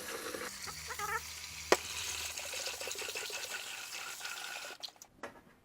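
Basmati rice is swished and rinsed in running water, with a continuous splashing, trickling flow and a few clinks near the end; no one talks.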